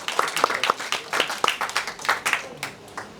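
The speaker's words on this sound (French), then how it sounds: "Bah, on peut les applaudir parce que franchement," Applause from an audience at a comedy stage show, a smattering of claps with a few distinct sharp hand slaps, moderately close and fairly thin rather than a full roaring ovation.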